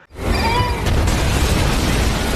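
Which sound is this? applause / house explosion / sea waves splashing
house explosion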